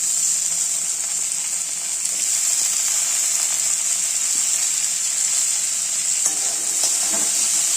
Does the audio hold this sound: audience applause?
no